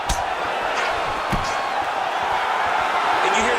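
A virtual arena crowd in EA Sports UFC 5 roars steadily through a Yair Rodriguez vs Giga Chikadze bout, a dense loud wash with a few thuds, partly under commentary.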